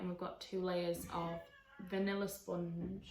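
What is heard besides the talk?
cat meowing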